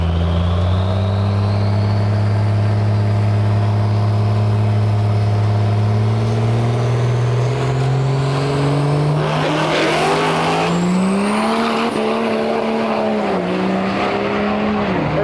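A 1957 Ford F100 pickup with a Cummins diesel roars loudly through a drag racing pass, its engine pitch climbing steadily, dipping at each gear shift and rising again, with tire noise and a rising whine near the end.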